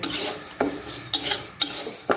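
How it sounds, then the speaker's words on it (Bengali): A spoon scrapes and stirs dry mung lentils in a hot pan, giving four or five short, gritty strokes at a steady pace. "এখন শুকনো খোলায় ডালটাকে একটু ভেজে নিব"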